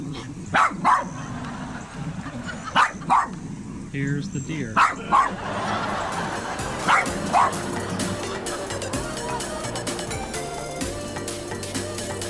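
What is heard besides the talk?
dog barking at a deer in the yard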